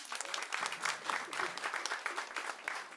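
Steady applause from a comedy club audience, a dense wash of many hands clapping at once, sustained and fairly even throughout.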